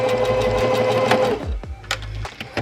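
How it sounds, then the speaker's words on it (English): Sewing machine whirring close and loud as it backstitches a seam on an upcycled thrift-store outfit, the motor running for over a second and then stopping, followed by a few short clicks and mechanical taps. "Now I'm gonna do a reverse stitch just to make sure it's sealed."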